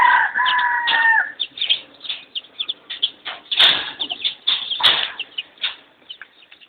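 A chicken clucks repeatedly in choppy bursts, with a couple of sharp loud squawks and a brief crow-like call near the start, all up close.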